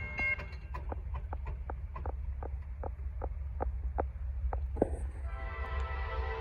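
A lone Norfolk Southern locomotive, number 9864, runs northbound through Gaffney, South Carolina, its wheels clicking in an even rhythm over rail joints. A sustained horn tone sounds near the start and again toward the end.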